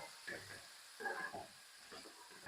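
Small coconut pieces sautéing in a pan give a soft sizzle with faint hiss. Quiet stirring bursts come and go in a few short waves.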